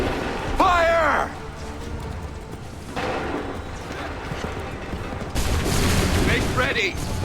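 Musket volleys in Assassin's Creed III crack out in a few loud bursts over a dense battlefield din of shouting, hooves and commotion, with voices calling out orders throughout.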